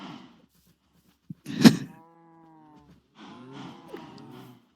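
Cows in a video game let out a couple of low, drawn-out moos, one of them loud and close, after a sharp thunk, with quieter stretches between calls.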